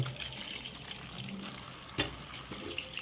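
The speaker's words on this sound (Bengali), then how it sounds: "এখন ধোয়ার কাজ চলতে আছে" Chang fish being washed under a running kitchen tap, a steady stream of water splashing into the sink with brief louder splashes as the fish is handled.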